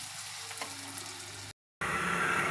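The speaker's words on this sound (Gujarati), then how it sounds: "હવે એડ કરીશું ઝીણી સમારેલી ડુંગળી. એને બરાબર થવા દઈશું જ્યાં સુધી થોડી લાઇટ બ્રાઉન ના થાય ત્યાં સુધી." Finely chopped onion frying in a pan for an egg curry gives a steady, close sizzle that cuts out briefly and returns louder and brighter.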